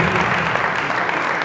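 A brief burst of loud, dense clapping from a comedy show crowd, steady and close, with no pause in the applause.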